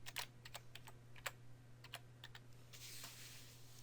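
Someone types on a computer keyboard while renaming an item in plant-modeling software, with a run of separate key clicks, some louder taps, and a quick flurry near the end over a steady low hum.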